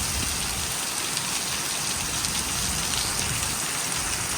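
Heavy monsoon rain pours down steadily in a dense, unbroken hiss, with no voices over it.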